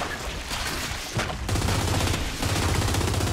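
Sustained automatic gunfire is focused on a carrier in the video game Gears of War 5, a dense, loud, continuous rattle with brief dips in between.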